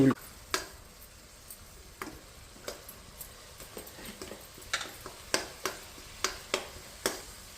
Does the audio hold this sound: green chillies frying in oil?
yes